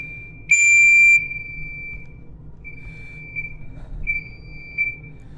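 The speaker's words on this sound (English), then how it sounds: "needs to do something about that alarm." Shrill electronic alarm tone in the video game Force Entry, a loud burst near the start followed by repeated steady beeping tones at a lower level over a low background rumble, with no talking.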